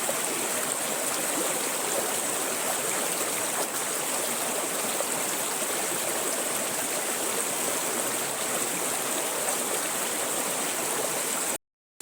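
A steady village stream flowing near farmland, a constant close rushing and gurgling of water that carries on alone without pause before cutting off abruptly at the end.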